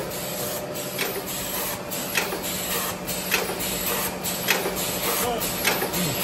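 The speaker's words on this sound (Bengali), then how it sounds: "এ হচ্ছে আমাদের আধুনিক পেপার প্লেট মেশিন।" A modern paper plate making machine runs steadily at close range, a dense mechanical hum layered with rhythmic clacking and pressing thumps that repeat roughly every second.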